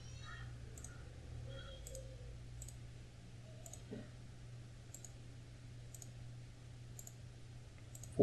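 Soft computer mouse clicks while modelling a part in CATIA V5 software, a sparse, fairly regular series of light taps about one per second over a faint steady hum.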